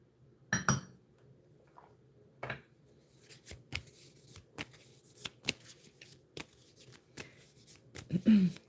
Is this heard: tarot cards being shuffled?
yes